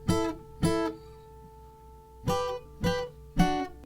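Fingerpicked acoustic guitar playing a song, with bright plucked notes coming in separate bursts of several strums and arpeggios, ringing notes sustaining between them, played close and alone with no voices.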